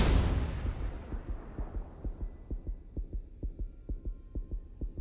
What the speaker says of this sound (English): You can hear Zerfy's heart beating.